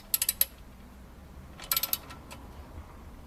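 A ratchet tightens the sump plug on a car during an oil change in a garage, giving two quick bursts of sharp metallic clicks, close and crisp, with quiet between them.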